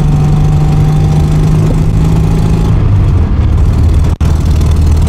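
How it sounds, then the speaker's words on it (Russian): A rebuilt classic car engine idles steadily up close, a loud, even low rumble with a faint hum on top and one brief dropout near the end. "Вот это звук. Прям песня, друзья. Обожаю классику, обожаю свою машину."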